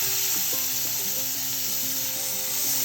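A finely chopped medium tomato hits half a teaspoon of cumin frying in oil for a Malabar spinach dal curry, bringing a loud, close, continuous sizzle with rhythmic stirring scrapes.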